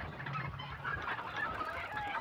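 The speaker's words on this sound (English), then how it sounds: "Those fucking chickens." A flock of in-game chickens clucks and squawks steadily, several birds overlapping up close without pause.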